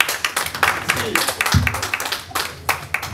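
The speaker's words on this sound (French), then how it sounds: "Alors, merci Linda, mais applaudissez là quand même." Audience claps at a Paris press conference for an artist, uneven bursts of hand claps mixed with voices talking over them, fairly close and lively.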